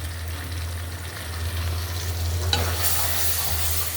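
Ground turmeric, chili, and coriander-cumin powders fry with a local tomato in a pan, making a close, steady sizzle over a low hum, with a brief stirring scrape near the end.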